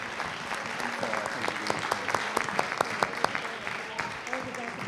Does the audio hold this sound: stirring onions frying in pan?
no